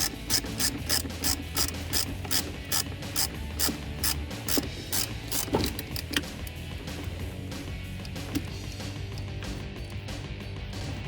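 A ratchet clicks in bursts while clamps are snugged down on an AFE Magnum FORCE Stage 2 cold air intake on a 2017-2020 Ford F-150 3.5L EcoBoost, loud and close in the first half, then fading into scraping handling noise.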